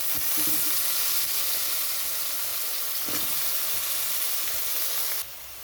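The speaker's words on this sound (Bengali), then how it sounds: "এখানে দিয়ে দিচ্ছি বেগুন" Eggplant frying in a pan with cumin and Kashmiri chili powder for a vegetarian curry: a steady, close, loud sizzle and hiss with occasional stirring scrapes, dropping slightly near the end.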